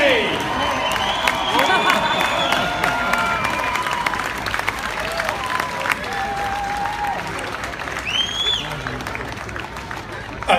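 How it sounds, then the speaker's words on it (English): Crowd cheering and clapping at a WRC rally finish ramp once the engine is off, a steady wash of applause and shouts with whistles on top, mixed with an announcer's voice. "let's have another cheer for Julien Ingrassia and Sébastien Ogier!"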